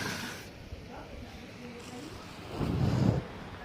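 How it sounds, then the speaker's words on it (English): Strong night wind gusting outside, a broad rushing roar with buffeting against the microphone that swells louder near the end, with no talk over it. "You guys just want to hear how windy it is outside?"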